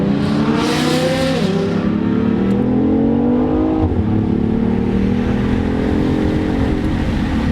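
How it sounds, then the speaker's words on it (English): A BMW i8 in sport mode accelerating from inside the cabin, a loud, smooth engine note rising in pitch, dropping at a gear change, then climbing again steadily. "I mean, guys, that's accelerating, but you can't even tell."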